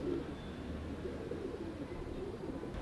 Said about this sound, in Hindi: ये गोल्डन कबूतर है जी।